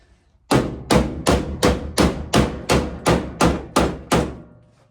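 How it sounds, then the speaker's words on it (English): A big hammer strikes metal ten times in a steady, evenly spaced rhythm, each loud ringing blow decaying before the next, bending a steel floor panel being prepared for welding. "this is a job for the big hammer."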